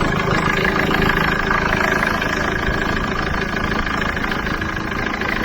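A Ford Transit MK7 van engine idles steadily under an open bonnet after a crank pulley and belt tensioner job, a continuous mid-to-low hum with a faint mechanical ticking, close and even throughout.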